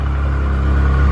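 A Rolls-Royce Phantom idles after a cold start. A steady, deep engine rumble runs close and unbroken throughout.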